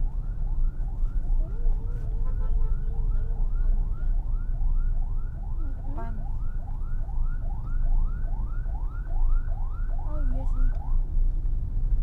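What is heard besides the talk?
ambulance sirens in traffic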